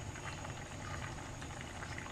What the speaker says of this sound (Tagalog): At ngayon, kumukulo na yung sauce natin.